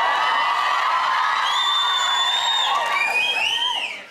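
Studio audience at a TV chat show cheers, whoops and shouts loudly and continuously, with high whistles and excited voices rising over the crowd roar before it tapers off at the end.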